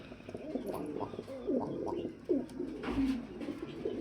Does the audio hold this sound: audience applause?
no